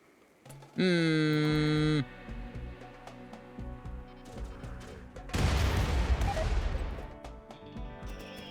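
Gunfire aimed at mechanoids in the Rimworld video game, a dense burst of rapid game shots and a rumbling fusillade, loud and up front, preceded by a steady synthetic tone, with a voice talking over parts of it.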